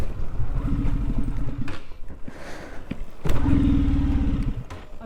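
A KTM Duke 125 motorcycle sputters and fails to catch during a roadside push start, its engine chugging in two bursts with a rough gap between them, close and fairly loud.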